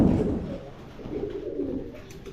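A pigeon at a breeder's loft coos in a low, throaty, rolling call, close and continuous for a couple of seconds.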